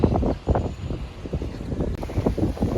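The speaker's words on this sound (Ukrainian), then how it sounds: "дуже сильно вітряно, тож я сподіваюся, ви мене чуєте" Strong wind buffets the microphone in heavy low rumbling gusts that rise and fall throughout, loud and close, with no one speaking.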